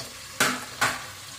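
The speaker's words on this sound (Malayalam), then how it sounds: "നമ്മളൊന്ന് ഉള്ളി സവാള ഒന്ന് നമുക്ക് ഒരു ബ്രൗൺ കളർ ആവുന്ന രീതിയിൽ ഒന്ന് ഫ്രൈ ചെയ്തെടുക്കാം." Sliced onions fry in a pan for quail biryani, with a faint steady sizzle broken by two sharp scraping stirs close together.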